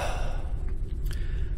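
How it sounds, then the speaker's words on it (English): Heavy, steady breathing of a sleeping character in the Forever Skies game, continuous and close for the whole stretch, with no talk over it. "that's a lot of breathing to go to sleep"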